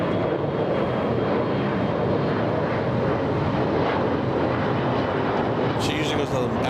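Air France Boeing 777 arriving from Charles de Gaulle at LAX airport, a steady broadband jet roar that holds loud and continuous throughout with wind noise, and people talk over it.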